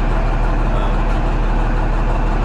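A cold Allis Chalmers 7045 tractor engine idles steadily in a barn, a loud, deep, continuous diesel rumble close by with no talk over it.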